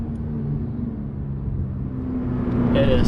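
A Toyota GR86 rear-wheel-drive sports car's engine drones steadily from inside the cabin while driving, a low rumbling hum that swells slightly toward the end.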